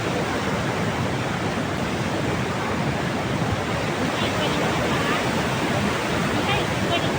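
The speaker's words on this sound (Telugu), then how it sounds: "ఇక్కడ వాటర్ ఫాల్స్ ఉన్నాయి, అవి ఎంత క్యూట్గా ఉన్నాయో చూడండి. చాలా అంటే చాలా ఫోర్స్ఫుల్గా వెళ్తుంది వాటర్." Waterfalls at Seeleru pour water with great force, producing a loud, dense, unbroken roar that fills the whole stretch without pause.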